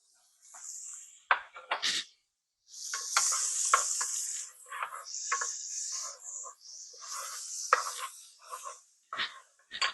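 Butter sautéing in a pan while cooking tinola, bursts of crisp sizzling and spattering that start and stop, interrupted by short knocks and stirring clatter.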